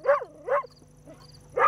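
A dog barks at close range in an old rural house setting, giving three sharp yips in quick succession with short quiet gaps between them.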